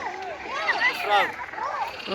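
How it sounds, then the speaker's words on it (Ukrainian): A chorus of frogs croaks in quick, overlapping calls, fairly close and continuous through the short stretch. "Ох, жаби розкричались."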